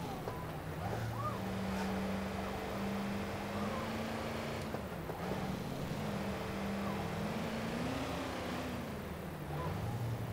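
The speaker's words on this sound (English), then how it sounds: "It sounds like a monster truck more than a Range Rover." Low, steady engine drone of a 2012 Range Rover in the City Car Driving game, with shifting pitch as it revs and cruises, continuous and moderately loud, sounding like a monster truck.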